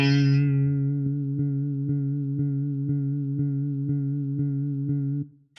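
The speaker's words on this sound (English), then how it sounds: "These tractor effects are not really conventional guitar effects" A Traktor effect from Guitar Rig 6 processes a guitar note: a bright attack gives way to a sustained tone chopped into a steady rhythmic pulse, about two beats per second, which cuts off abruptly near the end.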